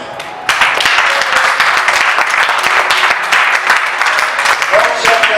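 Church congregation bursting into applause and cheering to acclaim the Lord during a French-language sermon, a dense, sustained wash of many hands clapping close by, continuing steadily after a sudden start with some voices mixed in.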